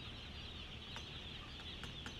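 Chickens clucking softly in a poultry house, a low steady murmur of many birds with a few brief sharper calls standing out, faint and continuous throughout.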